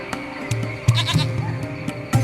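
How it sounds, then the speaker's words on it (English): A small goat in the video game Lost Horizon bleats several times in short, nasal bursts, close and clear against a quiet ambient hum. "It's a small goat."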